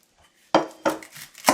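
A knife chopping Spanish onions for sofrito, three distinct cuts against a board, close and fairly soft, with no voices.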